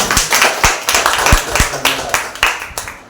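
A congregation at a Wednesday church service claps: loud, distinct hand claps in a loose, uneven rhythm, close and clear, with faint voices in the background.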